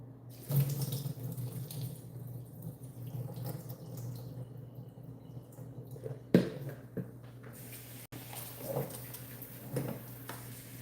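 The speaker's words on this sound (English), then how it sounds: "I'm going to rinse the corn." Tap water runs steadily into a kitchen sink while corn is rinsed, a close continuous splashing stream with a couple of brief clunks and knocks from handling the bowl.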